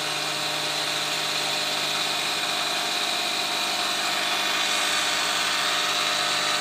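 Engine running steadily to drive an alternator for a step charge, a loud continuous mechanical drone with a fine even buzz and a slight lift in pitch partway through, close by and with no talk.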